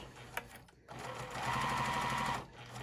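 A sewing machine stitches along the edge of a fabric headband: a light tap first, then a short steady run of close mechanical whirring lasting about a second and a half before stopping.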